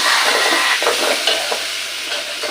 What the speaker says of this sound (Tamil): அதையும் சேர்த்து நல்லா கலக்கி விட்டுக்கலாம் தக்காளி நல்லா வதங்கணும்